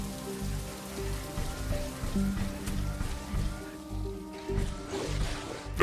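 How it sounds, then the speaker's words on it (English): Steady rain falling in the sci-fi base-building game The Riftbreaker, a continuous hiss of drops on surfaces with low rumbling game ambience and faint tonal effects underneath, no voices. "The rain is over."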